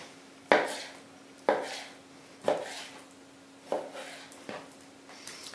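A knife cuts through chicken fillet on a board, five evenly spaced slicing strokes with dull taps, close and quiet.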